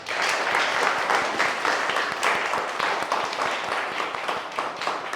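Loud, continuous applause from a group of people, a dense steady patter of many hands clapping that holds strong throughout with no speech over it.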